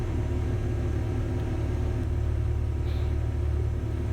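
Hot hatch race car waiting on the grid at Silverstone before a 750 Motor Club race, its engine held at a steady low idle rumble, close and continuous throughout with no speech.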